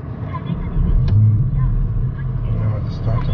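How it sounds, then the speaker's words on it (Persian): A Porsche Panamera engine starts up with a low rumble that swells and settles into a steady idle, while someone talks over it close by. "خب من ماشین رو براتون استارت بزنم"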